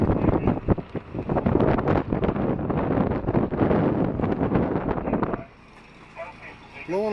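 Strong storm wind buffets the microphone outside a boat underway, a loud gusty roar rushing for several seconds before cutting to a much quieter interior, where a voice begins to speak.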